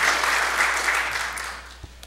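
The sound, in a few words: audience applause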